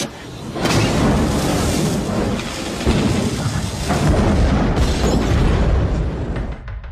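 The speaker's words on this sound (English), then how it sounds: "the real-life mobster Frank Lefty Rosenthal, climbs into his 1983 Eldorado, turns on the ignition, and is engulfed in a fireball" A large car bomb fireball erupts as a 1983 Cadillac Eldorado's ignition is turned, producing a sustained, loud rumbling roar with booming surges that rolls on for several seconds without a break.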